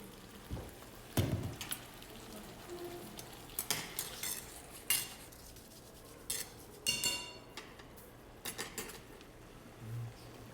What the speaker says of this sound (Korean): 이런 식으로 소스를 하나 버무려 주는 겁니다